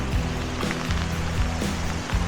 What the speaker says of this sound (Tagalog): Maliligo na lang kami sa ulan.